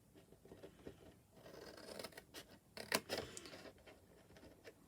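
Scissors cutting along scored cardstock for a stamped paper gift bag, a few short crisp snips and rasps clustered near the middle, close and fairly quiet with no talking.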